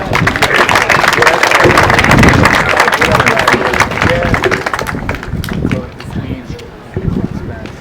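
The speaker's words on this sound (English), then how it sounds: "Give him a round of applause." Loud, sustained audience applause fills the room as an independent journalist in Albuquerque is introduced, dense clapping with some voices mixed in, fading slightly toward the end.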